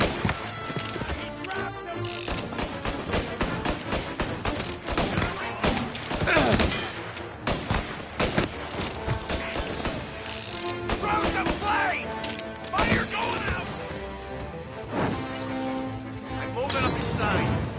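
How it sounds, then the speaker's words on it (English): Bursts of gunfire from the video game Mafia Definitive Edition, dense and continuous, with rapid shots, mechanical clatter and game noise layered throughout. "reports of gunshots"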